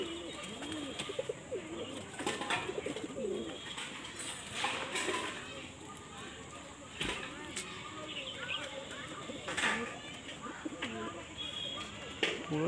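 A white deep-eyed pigeon coos in soft repeated calls amid general loft noise, while someone talks over much of it.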